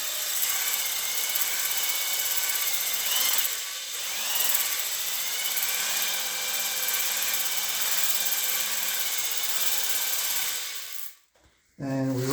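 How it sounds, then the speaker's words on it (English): A ball hone spins inside an engine cylinder of a 1958 Pontiac 261 six, making a steady high whirring drone with slight dips as it moves, then stops with a few brief clicks at the end. "We're going to install the ball hone in the cylinder, like so."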